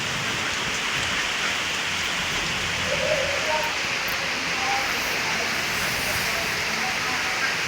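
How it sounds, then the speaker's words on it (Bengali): Steady rain falls during a storm, a dense even hiss of drops hitting surfaces that continues without pause, with faint voices in the background. "আবার বলতে বলতে বৃষ্টি এসে গেছে দেখেন"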